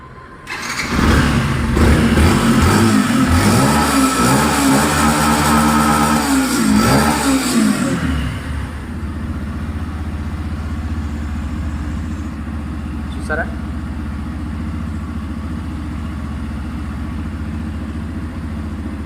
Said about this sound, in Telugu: ఒకసారి ఇంజిన్ స్టార్ట్ చేయించి కూడా మీకు ఇంజిన్ నాయస్ అనేది ఎలా ఉందో వినిపిస్తాను